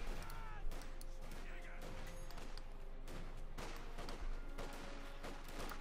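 MG42 machine gun fire in Company of Heroes 2, dense bursts of rapid gunfire and crackling impacts filling the scene continuously, loud and busy with distant battle noise layered underneath.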